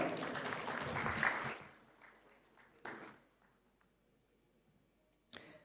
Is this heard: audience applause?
yes